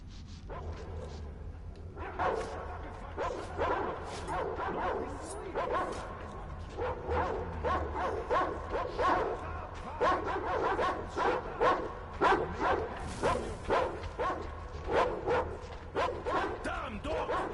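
Dogs in the Metro: Exodus video game bark and yip repeatedly in quick bursts over a low background hum, several animals close by and continuing throughout.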